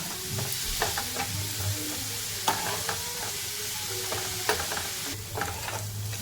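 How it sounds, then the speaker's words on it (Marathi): Finely chopped onions sautéing over high flame in a pan for egg tawa masala, a steady sizzle punctuated by repeated sharp scrapes and taps of a spatula stirring, close and unaccompanied by speech. "कांदा परतवून घेतला"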